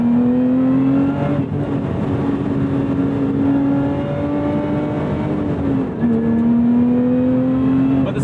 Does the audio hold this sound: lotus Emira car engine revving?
yes